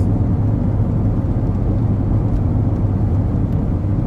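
Honda Civic engine running with a distributor timing fault, a steady low rumbling idle that is close and continuous, with no talk over it.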